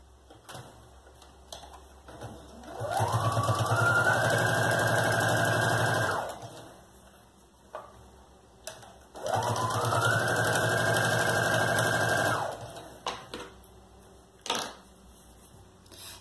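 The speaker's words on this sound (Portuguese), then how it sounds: "Daí aqui eu vou passar uma costura aqui, segurando, e uma costura aqui do outro lado, pra ficar parelhinho" A sewing machine runs two sustained stitching passes on a children's backpack seam, each rising to a steady whir for about three seconds, with quiet pauses and small clicks between.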